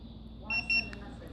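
An Avital remote start key fob gives two short, close, high-pitched beeps in quick succession against a quiet background.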